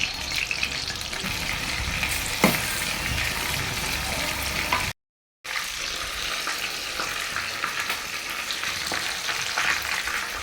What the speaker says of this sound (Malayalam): ചിക്കൻ ഇടുന്നു. നേരത്തെ മസാല പുരട്ടി വെച്ച ചിക്കൻ